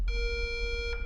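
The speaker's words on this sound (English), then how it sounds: "Is it so bad it's setting off an alarm?" A fire alarm in a film sounds a loud, steady high electronic tone, continuous and close, filling the whole moment with no talking.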